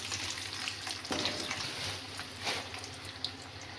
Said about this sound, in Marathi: 1 गड्डा लसूण मी सोलून घेतले. आणि हे लो फ्लेमवरच ना आपण तळून घेणार आहोत.